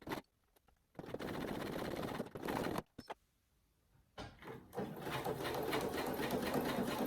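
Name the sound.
sewing machine stitching fabric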